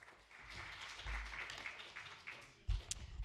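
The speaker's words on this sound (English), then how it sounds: "Big round of applause for Marie-Hélène and her words of conclusion." Audience applause at the close of an international research conference on development, a broad, steady patter of clapping lasting a few seconds, swelling briefly near the end.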